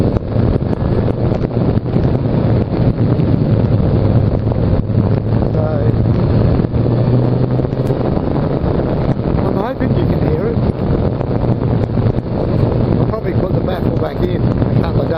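A Suzuki Bandit motorcycle rides at speed, its engine roar buried under heavy, constant wind buffeting on the microphone with someone talking over it.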